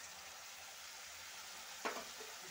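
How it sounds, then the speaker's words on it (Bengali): Spice paste sizzles steadily in a pan while onions and masala are sautéed for a Bengali small pond-fish curry, a low continuous fry with one brief louder scrape or stir near the end; no one talks. "দেখো মশলাটা আমার ভালো করে কষানো হয়ে যাচ্ছে"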